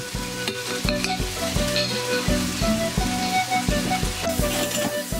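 Onions and garlic paste sizzle loudly in a pan for Peruvian carapulcra, with a continuous close frying hiss and rhythmic scraping stirs layered over it, no voices.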